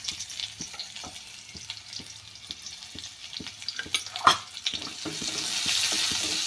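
Chopped onion, cut lengthwise, frying in oil with mustard seeds and cumin for a drumstick-leaf pithla, a crackling sizzle with rhythmic stirring taps that swells louder toward the end, no speech.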